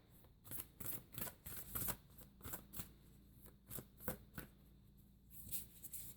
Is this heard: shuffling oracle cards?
yes